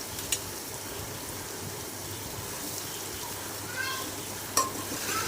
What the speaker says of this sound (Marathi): छानसा आपला कांदा भाजलेला आहे त्याच्यामध्ये मी नंतर एक टोमॅटो चिरला होता तो मी त्याच्यामध्ये टाकून घेतला